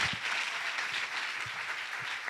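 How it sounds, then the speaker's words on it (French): A conference hall audience applauding the speakers, a dense steady wash of clapping from many people, sustained through the whole moment at moderate distance. "Et on peut encore applaudir les intervenants"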